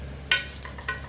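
Dried red chillies, garlic and curry leaves fry in hot oil for a tempering, heard as a few short crackling bursts over a quiet low hum, close and brief.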